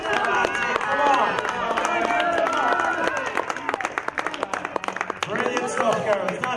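A crowd at an outdoor strongman event claps rhythmically to urge on women competitors, with fast steady applause, scattered cheers and a voice shouting encouragement over it.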